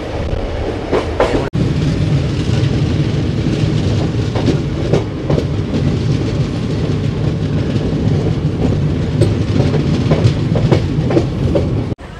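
Train 13512 Asansol–Tatanagar on the South Eastern Railway runs over the rails near Burnpur, giving a loud, steady rumble with a rhythmic clickety-clack of wheels and no voices.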